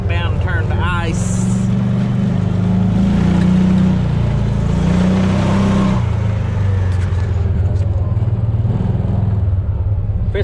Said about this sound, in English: BX, go plow Mamaw's driveway so it don't get packed down and turned to ice.